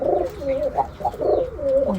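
Domestic pigeons in a rearing loft coo nearby in soft, rolling, repeated calls that overlap one another.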